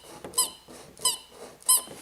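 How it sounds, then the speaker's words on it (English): The soft bear ears on a baby playpen activity center toy are squeezed three times in a steady rhythm, each press giving a short, sharp, high squeak close up, with no talk. "The bear's ears do squeak."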